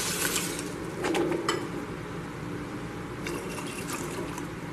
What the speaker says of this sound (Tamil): ஜீனிக்கு வந்து நான் 2 கப் தண்ணி ஊற்றுறேன்.